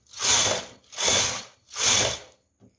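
Lace rows worked on a knitting machine, the carriage swept across three times in steady passes, each a loud ratcheting mechanical whir, with a brief tick at the end and no voices.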